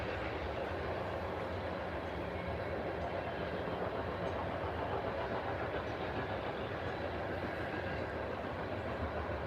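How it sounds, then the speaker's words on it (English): A heavy diesel-electric freight train with four locomotives hauls fully loaded cars at maximum capacity, making a loud, steady rumble and roar that holds unbroken for the whole stretch, with no voices. "4 diesel electric train cars pulling at their maximum fucking capacity"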